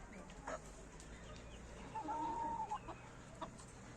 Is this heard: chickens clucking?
yes